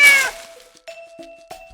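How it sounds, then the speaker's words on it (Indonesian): A farm cat in a barn gives one loud, close meow, followed by a few fainter, shorter mewing calls with pauses between them. "Ini kucing."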